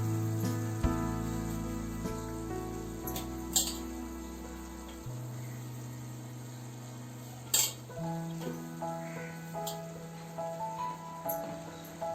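Masala-spiced curry of stuffed ivy gourd simmers in a pan, a steady low bubbling and soft sizzle with occasional clinks of a spoon stirring against the metal.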